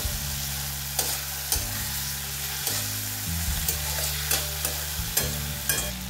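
Garlic goes into a tomato masala frying in mustard oil for a Bengali chicken dish. A bubbling sizzle runs underneath as a spoon scrapes the pan in regular strokes, roughly every half second to second, each stroke distinct and close.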